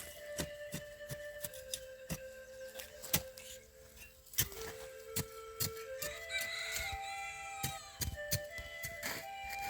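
Chickens cluck and a rooster crows in a rural village yard in Laos, with sharp intermittent ticks and clacks scattered throughout and a rising crow-like call near the end, all fairly faint and with no talking.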